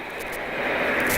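An aircraft engine runs during spin recovery on a test flight, a loud, broad roar that swells slightly and gets louder toward the end.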